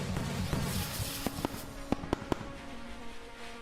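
Fireworks in the video game Survive the Disasters 2 go off as a quick run of five sharp, crackling pops over a busy, noisy game background.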